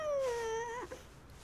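A small cat in a Titeuf cartoon gives one drawn-out, descending meow, clear and close, fading into a short soft trailing sound with no talking.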